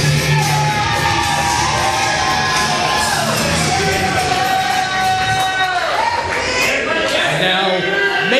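Small but vocal crowd cheering, shouting and whooping from one corner of ringside at a local wrestling event, a continuous loud wash of voices with rising yells.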